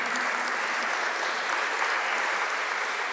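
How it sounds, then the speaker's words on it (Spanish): A church congregation claps in dense, steady applause that fills the room, loud and continuous with no voices over it. "Vamos a recibirlos con un aplauso."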